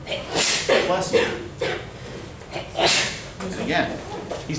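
A sudden sharp sneeze bursts out amid ongoing talk, close and loud, followed by breathy noises as speaking continues.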